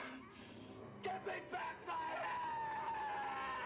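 Ash yelling and emoting in the 1987 horror film Evil Dead 2, strained shouts and cries rising over a busy film soundtrack, loud and sustained toward the end.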